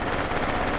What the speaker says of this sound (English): And they are shooting at my forces.